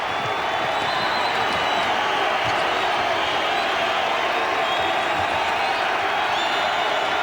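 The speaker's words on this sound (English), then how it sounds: "Crowd's back into it again" Crowd noise fills a college basketball arena during a 1997 Kansas versus Texas Tech game, a steady, loud roar of cheering that holds for several seconds without breaks.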